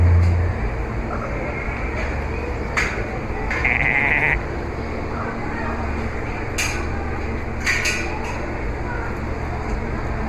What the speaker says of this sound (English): checking out the goats and the sheep